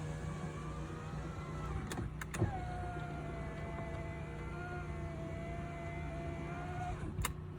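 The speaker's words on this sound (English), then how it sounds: "Windows, driver's side window, passenger side window." Power windows of a Toyota Land Cruiser HZJ73 whirring up and down in turn, a steady electric motor drone with sharp clicks as each window starts and stops, close and clear.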